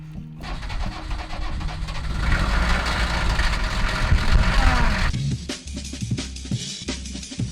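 A low-emission van engine cranks and catches, then rumbles loudly for several seconds before settling into a quieter, steady idle, close by and with no talking.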